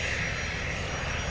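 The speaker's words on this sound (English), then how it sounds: "Praetor 600 coming at us" An Embraer Praetor 600 business jet approaches Stansted with a steady, loud whooshing engine roar that stays even across the brief moment, with no talking.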